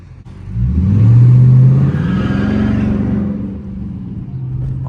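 A Dodge Charger R/T in track mode accelerates hard, its engine swelling to a loud close roar, holding high revs, then settling to a lower drone as the pull eases.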